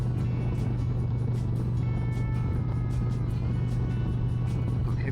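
A motorcycle cruising down the road on a long trip, its engine giving a steady, loud drone with constant wind rush and no pauses.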